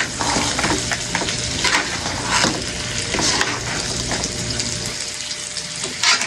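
Crabs cooking in a pan, giving a steady close sizzle and bubbling with occasional stirring scrapes and splashes throughout, with no talk.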